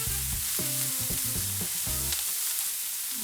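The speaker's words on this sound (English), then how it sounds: "you only want to cook your onions for about a minute" Finely chopped onions fry in a pan over low-to-medium heat, a steady close sizzle running throughout with low rumbling tones of stirring underneath and no talking.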